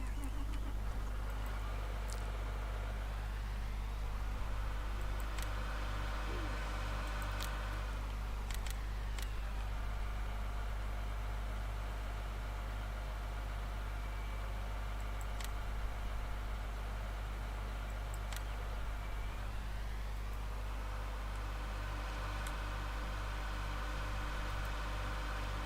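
A farm vehicle engine in the Farming Simulator game runs steadily at a low hum, with a few gentle rises and falls in pitch as it revs, continuous and unaccompanied by voices.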